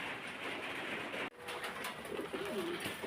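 Pigeons at a pigeon farm in Faridpur give soft, low cooing calls in the second half, faint against a steady background hiss.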